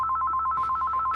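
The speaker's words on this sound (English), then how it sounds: "there goes the phone" A telephone rings nearby, its electronic bell trilling in a rapid, even warble over a brief moment, loud and clear with no talking.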